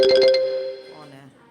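A brief electronic phone ringtone chimes in a quick repeating pattern, then fades out as a voice begins.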